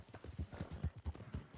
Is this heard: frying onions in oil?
no